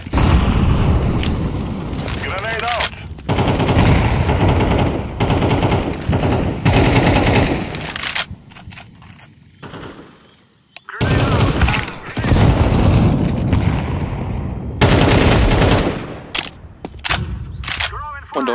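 Grenade explosion and gunfire in Counter-Strike 2 on the Ancient map, heavy sustained bursts of rifle fire and booms, loud and close, with a brief quieter lull midway and voices talking underneath.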